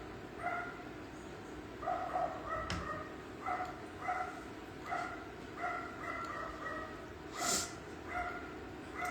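A small dog yips repeatedly, faint and distant, in a steady run of short barks spaced about a second apart, heard over a low background hum.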